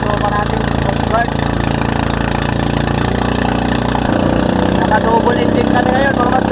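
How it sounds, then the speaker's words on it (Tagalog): A Coast Guard double-engine rescue boat out at sea off Ilocos Norte runs its twin motors in a loud, steady drone, close and continuous with no speech. "Naka-double engine kami ngayon mga master."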